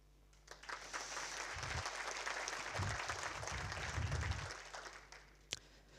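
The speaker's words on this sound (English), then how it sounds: "give a round of applause for the PC" Conference audience at a network operators' event applauding the program committee, a steady broad wash of clapping that swells, holds for several seconds and then tapers off, fairly quiet in a large room with no talking.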